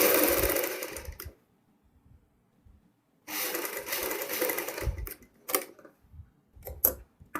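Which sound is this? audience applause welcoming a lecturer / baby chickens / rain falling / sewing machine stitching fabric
sewing machine stitching fabric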